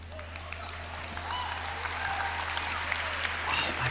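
Crowd clapping at a gaming convention opening ceremony, a continuous moderate wash of applause that swells slightly toward the end over a steady low hum.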